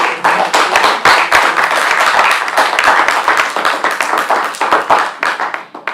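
A conference audience claps after a panel discussion on urban design and crime, giving dense, brisk applause that holds steady for several seconds before thinning toward the end.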